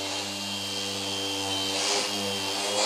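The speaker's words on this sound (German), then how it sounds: "also die Absaugung an dem Schleifer funktioniert tadellos." A Bosch GEX 12V-125 random orbital sander with dust extraction runs with plain sandpaper, giving a steady, loud, close whine with a low motor hum throughout and no talking.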